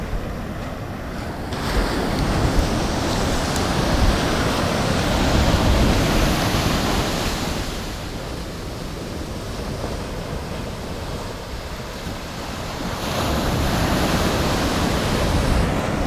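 Ocean surf breaks in clean, hollow cylinder bowls folding over slabs, making a loud, steady wash with rising and falling surges and some wind buffeting, with no voices.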